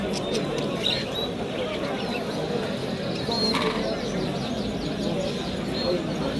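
Young, colourful Japanese birds chirp at a bustling bird market in Bursa, with faint, scattered high calls nearly buried under steady crowd noise and people talking nearby.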